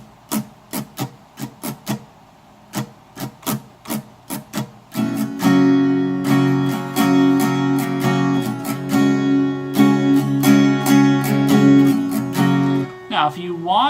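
Acoustic guitar strum pattern for a song, starting with separate muted percussive strokes in a steady rhythm, then breaking into full ringing strummed chords that carry on loudly, with no one talking.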